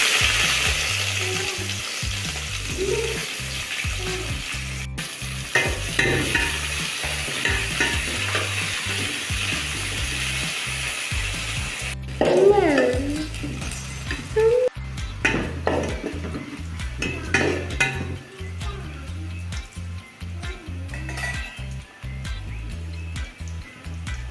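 Onions sizzle steadily in hot oil while a utensil scrapes and stirs the pan in rhythmic strokes, with occasional clinks against the metal.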